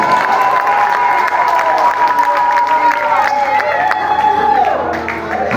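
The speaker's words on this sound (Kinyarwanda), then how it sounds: "Komeza kukomereza amashyi." Church congregation applauding loudly and continuously, a dense wash of clapping mixed with voices and cheering from a crowd at a worship service, close and sustained throughout.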